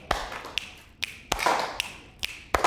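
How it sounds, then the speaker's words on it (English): Several sharp, quick taps on a table form an uneven rhythm in a quiet room, each hit a crisp knock with a short ring. "you can just do a little tap on the table if you want"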